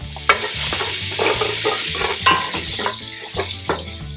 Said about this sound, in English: these onions have been cooking for about 2 minutes on low heat